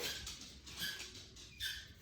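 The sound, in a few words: dog playing with its dog toy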